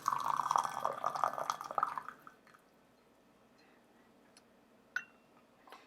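Water is poured over Wuyi rock tea leaves for a quick rinse, a steady close trickling stream that stops after about two seconds, followed by faint drips and a single small clink.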